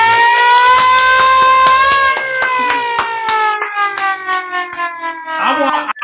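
A siren sound effect played on a Christmas-morning talk show wails loud and close with a steady rising tone, then wavers and fades, with sharp claps or knocks punctuating it.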